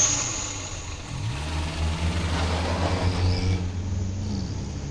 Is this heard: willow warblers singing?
no